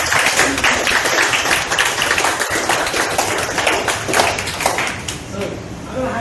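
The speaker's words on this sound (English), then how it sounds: "So let's give him a big round of applause" Audience applause and clapping for Major Deepak Rao at a Jeet Kune Do workshop in London in 2019, a dense steady patter that continues throughout with a voice talking over it.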